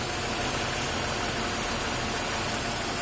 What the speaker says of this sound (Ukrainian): Машина дуже рівно робить